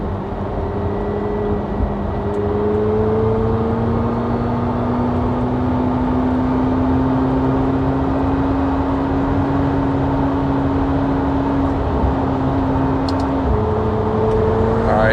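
A McLaren 720S pulls hard under heavy boost in a long, loud, sustained acceleration, its engine drone rising steadily in pitch, then breaking briefly as the car shifts up and carries on climbing. No one speaks.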